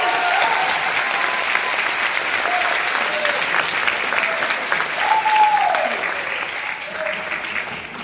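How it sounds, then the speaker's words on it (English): Applause for the families of nursing graduates at a pinning ceremony, a sustained dense clapping from a large crowd, loud and even throughout, with faint voices and a few cheers mixed in. "we applaud and acknowledge you for your enduring support the past 2 years."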